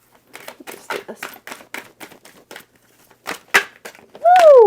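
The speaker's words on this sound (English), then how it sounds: "I'm just going to go ahead real quick and give the cards a shuffle" A deck of tarot cards being shuffled by hand gives a run of quick papery riffles and flicks, loud and close. A louder swooping sound joins at the end.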